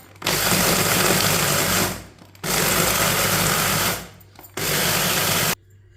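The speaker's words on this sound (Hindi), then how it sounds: "तिल और बादाम को ग्राइंड कर लेंगे। इसे ज्यादा पीसना नहीं है" Electric grinder whirring through sesame seeds and almonds in three short bursts, each a loud steady buzzing roar that starts abruptly and cuts off, with quiet pauses between.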